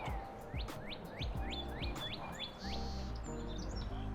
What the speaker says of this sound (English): It's nice to hear all these birds, though.